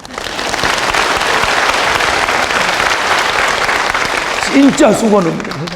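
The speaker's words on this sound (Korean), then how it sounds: "우리 주방 봉사 하시는 분들이 박수 좀 쳐줘." Loud, sustained applause from a church audience fills the clip, with voices breaking in near the end as the clapping subsides.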